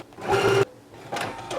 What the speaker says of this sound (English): So now I'm going to go ahead and sew it down now.